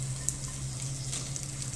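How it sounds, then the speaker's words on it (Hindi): Okra frying in hot oil in a pan on a high stove flame, a steady close sizzle with a few brief crackles and pops. "हल्का सा इसको फ्राई करेंगे तेज़ चूल्हे पे बिल्कुल"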